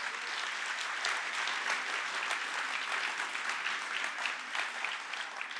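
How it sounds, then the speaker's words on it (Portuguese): Applause from a church congregation fills the space, steady and dense clapping that carries on without a break, with faint voices mixed in underneath. "aplauda, Senhor"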